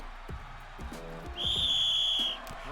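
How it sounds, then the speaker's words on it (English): A referee's whistle in the wrestling video game WWE 2K23, one steady shrill blast lasting about a second, heard over scattered thuds and low background noise. "they blew the whistle."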